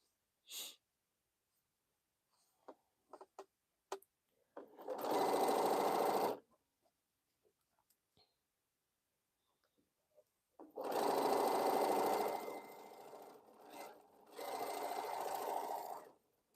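Sewing machine stitching quilt blocks for a Crown Royal quilt, running in three sustained bursts of steady whirring, close and fairly loud, separated by quiet pauses with small handling clicks.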